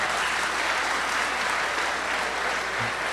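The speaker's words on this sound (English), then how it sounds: "We need a round of applause for that" Crowd applause fills the livestock auction arena at the 2018 Missouri State Fair Sale of Champions, dense, steady clapping heard up close and unbroken for the whole stretch.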